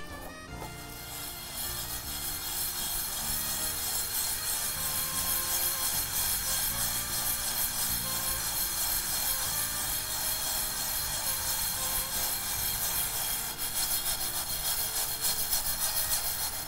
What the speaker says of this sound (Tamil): இது ஓரளவு வறுபட்டுருச்சு, இப்போ தீயை கூட்டிட்டு ஒரு வறு வறுத்துடுறேன்.